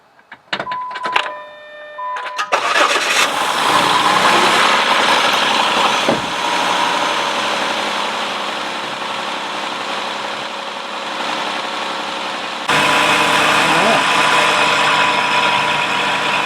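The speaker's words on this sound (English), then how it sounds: "So I'm going to go ahead and crank it up and let it kind of warm up" A car engine idles steadily after its engine bay was cleaned, starting up with a brief crank and then holding a loud, even hum that continues alone for over ten seconds.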